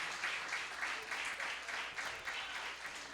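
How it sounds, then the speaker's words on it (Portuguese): A church congregation claps steadily in applause at a gospel service, a dense and fairly even patter of many hands throughout. "aplauda Jesus pela vida da pregadora"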